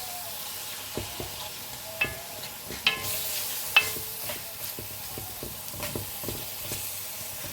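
Veal browning in a pan for a Provençal blanquette, with a steady low sizzle of frying meat broken by scattered clinks and scrapes of stirring utensils, close and moderately quiet.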